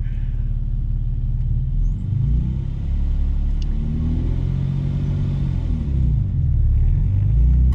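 A right-hand-drive MK4 Toyota Supra pulls away in first gear, heard from inside as a deep, loud engine rumble with revs climbing and easing across several seconds, steady and close with no clear talking.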